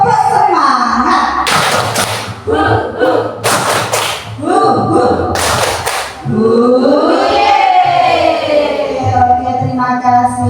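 A group claps in rhythm during a classroom-style session, several sharp bursts of clapping alternating with loud chanting voices.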